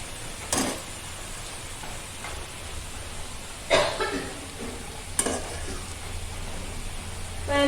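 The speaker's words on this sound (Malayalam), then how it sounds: "ഇത് ഒരല്പം കൂടെ ഒന്ന് ഇളക്കാം, കാരണം അതിൻ്റെ ഒന്നും ചൂടാവണ്ടേ പയറ്." Green gram stir-fry being stirred in a pan, a soft continuous sizzle broken by a few sharp scraping strokes of the spoon, close and fairly quiet, with no talking.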